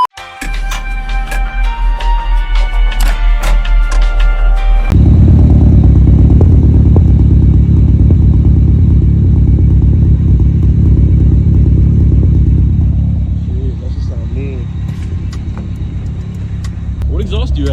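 A turbocharged Honda Civic's deep, loud exhaust, a 3-inch straight pipe to an Ultimate Racing muffler, rumbles steadily, holding a heavy low drone for several seconds before easing slightly, with some clatter and voices early on.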